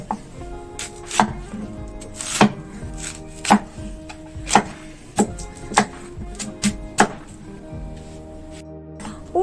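A knife chops local Hong Kong white radish on a board with about a dozen sharp, evenly spaced thuds, each one distinct and close in a quiet kitchen.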